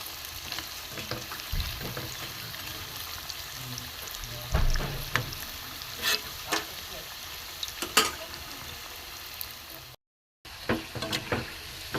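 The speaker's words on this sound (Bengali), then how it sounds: "ভাজা হচ্ছে বন্ধুরা, একটু কড়া করে ভাজি।" Gokul pitha, a sweet fried dumpling, sizzles steadily in hot oil. A continuous crackling hiss runs throughout, with louder pops and scraping stirs at intervals and a brief dropout near the end.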